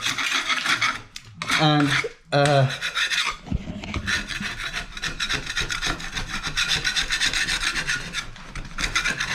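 Old wallpaper being scraped off a wall after soaking and scoring, with rough rasping scrapes, a short pause, then sustained scratchy scraping close by; someone speaks briefly.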